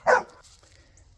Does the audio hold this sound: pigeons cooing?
no